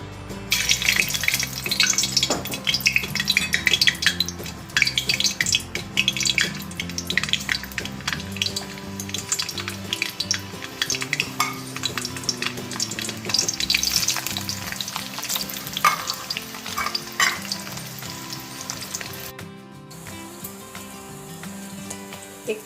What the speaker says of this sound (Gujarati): હવે એને આપણે સરસ રીતે શેકીને એની ગ્રેવી બનાવીશું.